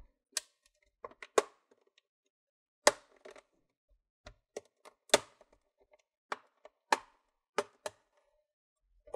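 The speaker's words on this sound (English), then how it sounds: "You want to hear some clicking." Plastic clips on the bottom cover of an Asus Vivobook X543B laptop are pried apart with a guitar pick, giving sharp, isolated clicks and snaps at irregular intervals against near silence.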